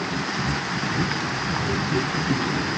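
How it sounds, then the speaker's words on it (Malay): Rain falls steadily at a riverside garden campsite, a dense even hiss with scattered drop patter filling the whole short stretch, close and fairly loud, with no voices over it. "Hujan guys."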